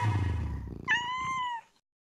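A kitten meows clearly and close by, one drawn-out high mew following a brief low rustle, then silence.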